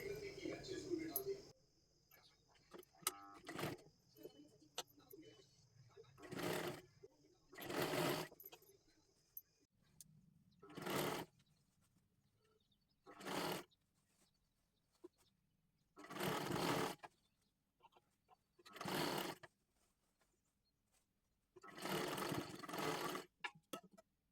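A sewing machine stitches a round seam on a fancy dress made from a Kathpadar saree, running in about ten short, loud bursts separated by quiet pauses.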